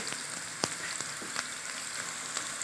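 Onions sautéing in oil in a pan, a soft, steady sizzle close by with a few sharp crackles and pops scattered through it.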